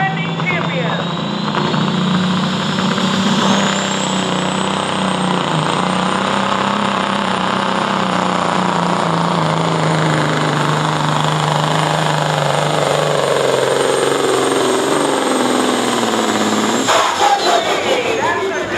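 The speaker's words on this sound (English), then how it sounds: "Gene Dunn, Carrollton, Ohio, 1982 Kenworth, 3406 Caterpillar engine, one big turbo, Twisted Kitty, our defending champion." Loud, sustained roar of a 1982 Kenworth pulling truck with a 3406 Caterpillar engine and one big turbo at a truck and tractor pull, turbo whine rising and holding for the full run while an announcer talks over it.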